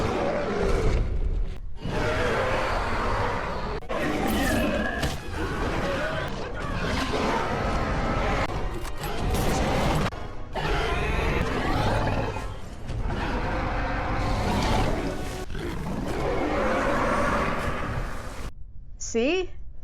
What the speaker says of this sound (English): Listen to all these different times that she roars.